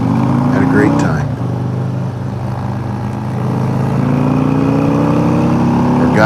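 Several motorcycles from a group of eleven bikes ride along a road, their engines giving a loud, steady mid-pitched drone with a brief dip and rising tone, while a voice speaks over the start.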